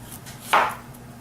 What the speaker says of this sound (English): cut the cucumber very thinly sliced